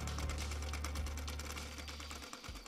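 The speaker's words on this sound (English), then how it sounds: "I will use zigzag stitch to embroider this lace applique." A domestic sewing machine runs a zigzag stitch while stitching a lace applique onto organza fabric, a steady close mechanical whir with a fast even rhythm that continues throughout.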